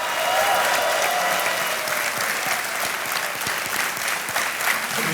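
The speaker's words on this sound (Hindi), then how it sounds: "बहुत जोरदार तालियां बजनी चाहिए क्योंकि एक चेक आ रहा है इनके नाम।" Studio audience applause on the Indian quiz show Kaun Banega Crorepati after a contestant wins a cheque, dense sustained clapping, loud and steady, with no talk over it.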